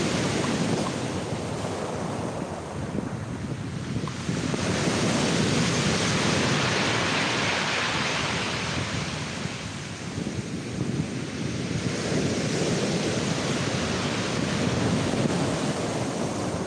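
Strong wind buffeting a microphone on a Norfolk beach while fishing, a loud continuous roar mixed with surf, rising and falling in gusts with no talking.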